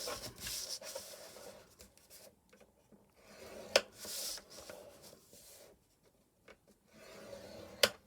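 A tool scores lines into card for a candle box, making faint, short rubbing scrapes in a few separate strokes against a quiet room, close up.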